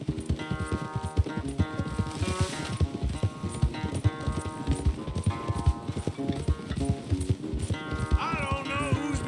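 A horse gallops hard in Red Dead Redemption 2, its rapid, loud hoofbeats drumming without a break under music during a race, with a brief whinny near the end.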